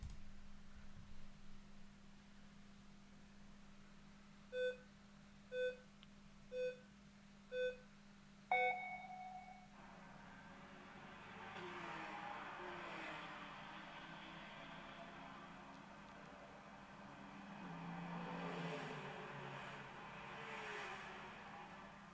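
Babylon.js JavaScript racing video game starting a race: four evenly spaced countdown beeps and a higher final tone, then a faint synthetic engine drone of race cars rising and swelling, quiet and without talk.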